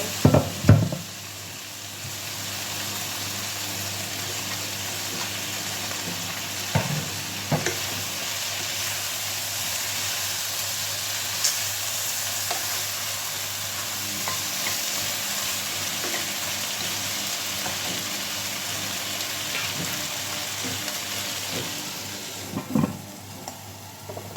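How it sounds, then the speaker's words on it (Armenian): Sauce poured into a hot frying pan hisses and sizzles steadily for a long stretch, with a few clinks of utensils at the start, in the middle and near the end. "Ավելացնում ենք սոուսը։"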